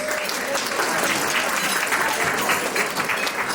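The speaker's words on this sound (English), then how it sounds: "A little applause." Steady, moderately loud applause fills a lunch room at a women's history event, thanking the kitchen and service staff, with scattered murmuring voices mixed in.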